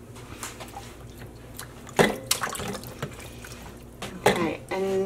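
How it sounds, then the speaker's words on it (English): Vinegar is poured in a splash onto merino and silk roving sitting in water, giving short wet trickles and drips, with a few louder splashy bursts and faint voice-like tones. "And a big old splash of vinegar."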